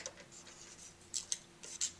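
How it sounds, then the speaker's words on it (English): Several short, crisp snips of jagged-edge scissors cutting through card, irregular and close, with quiet pauses between cuts. "take our scissors and cut out our cards"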